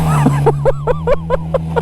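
A snowmobile engine drones steadily up close on a trail, its rising and falling revs pulsing in a quick, regular rhythm as the sled churns through mud.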